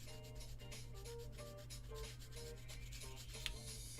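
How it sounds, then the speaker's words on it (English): Hand sanding on a Della Duck figure kitbash sounds as faint, close rubbing strokes in a steady back-and-forth rhythm, alone. "So now do some sanding"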